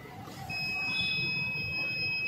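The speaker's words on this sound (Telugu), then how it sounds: "ఇక్కడ బీప్ సౌండ్ అయితే వస్తుంది ఆటోమేటిక్గా" A buzzer on an Arduino-built smart blind stick sounds a continuous high electronic beep, fairly faint but steady, starting half a second in and holding to the end.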